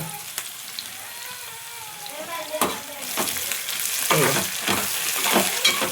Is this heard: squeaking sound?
no